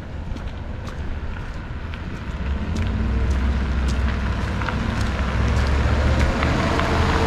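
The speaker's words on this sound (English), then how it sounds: "There's some traffic." Traffic on Main Street in Bar Harbor, Maine, in winter passes as a steady rushing roar that swells louder partway through, with tire and engine noise near and continuous and no talking.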